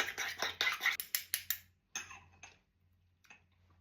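Cutlery clinks and scrapes in a bowl while mustard and bulldog sauce are mixed together, a run of sharp close ticks and taps that slow and fade into quieter scraping.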